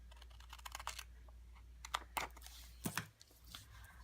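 Scissors cutting paper stickers for planner inserts: a few quiet crisp snips and rustles of paper spread over a few seconds, faint against a low background hum.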